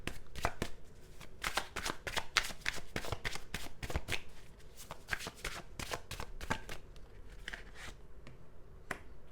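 Tarot cards are shuffled close up in a rapid series of crisp riffling slaps and flicks, steady and unbroken throughout with no voices.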